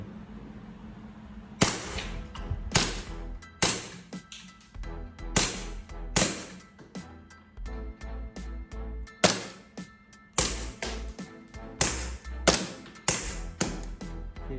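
A CO2 blowback BB gun firing at about 380 fps, a long series of sharp, loud cracks, single shots and quick pairs spaced irregularly over about thirteen seconds, close up with no talk.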